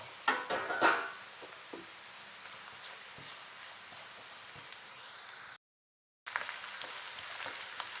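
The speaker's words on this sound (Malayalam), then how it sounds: "ഒരു മൂന്ന് പച്ചമുളക് വട്ടം അരിഞ്ഞത് ഇട്ട് കൊടുക്കാം ഇത് ഒന്ന് മൂത്ത് വരട്ടെ" Sliced green chilies fry in hot oil in a pan for a mushroom pickle, giving a gentle close sizzle with a brief louder crackle at first and then a quiet, steady hiss broken by a short silence.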